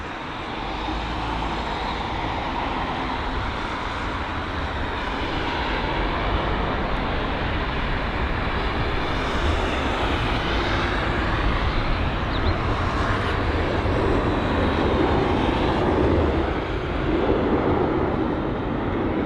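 A DHL Airbus A300 departing Heathrow, a sustained loud, dense jet roar that holds steady throughout, with no voices.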